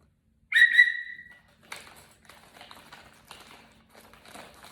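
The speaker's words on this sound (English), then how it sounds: "Got myself a nice little rape whistle." A survival whistle from a bug-out bag gives one short, shrill blast up close, followed by faint rustling and handling noises.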